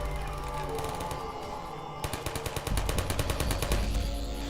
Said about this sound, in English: Even though I can hear some people shooting.